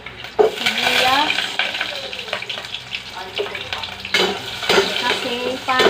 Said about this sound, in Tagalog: Igigisa ko muna ang luya.